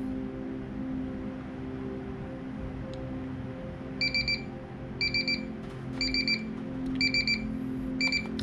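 A Baseus digital timer sounds its alarm in short bursts of rapid high beeps, about one burst per second over roughly five cycles, close and clear above a steady low hum.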